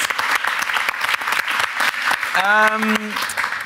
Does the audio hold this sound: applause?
yes